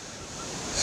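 Strong wind blows across a dam where waves churn the water during feeder fishing. A steady, dense roar of gusts and surf swells louder toward the end, with no voices.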